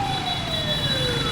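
An ambulance siren wails through street traffic in Saigon, Vietnam, a loud steady tone that slides slowly downward as it passes over a constant rumble of traffic.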